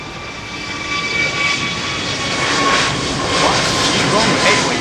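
Airbus A321neo engines spooling up for takeoff at London Heathrow, a loud, rising turbine whine with steady tonal hums over a broad roar that builds across the clip.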